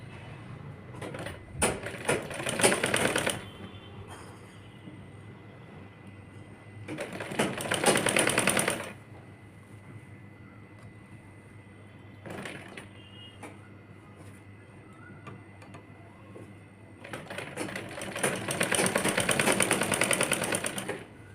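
A sewing machine stitches a kurti seam in four rattling bursts, two to three seconds each, with quiet pauses between them, close and fairly soft.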